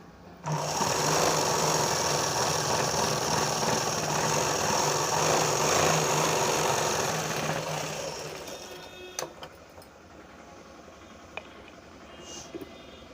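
A sewing machine stitches a boat neck blouse in a loud, continuous whirring run of about eight seconds, then winds down and stops, followed by a few faint clicks and handling sounds.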